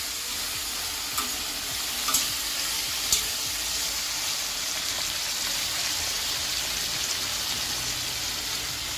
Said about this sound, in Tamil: மட்டன் எண்ணெயில் ஒரு 5 மினிட்ஸ் நல்லா வதங்கட்டும்.